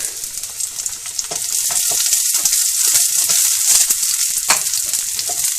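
Chopped garlic fries in a little oil for a Mangalorean chicken curry, giving a loud, constant close-up sizzle with a bright hiss and occasional crackles and stirring scrapes.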